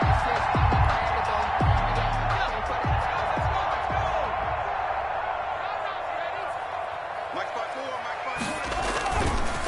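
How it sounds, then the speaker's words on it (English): A football stadium crowd at a Seahawks versus 49ers wildcard playoff game roars and cheers continuously, a loud, dense wash of noise with occasional thuds and claps, heard alone without talk. "And this crowd loves it as their guys hold on the opening drive."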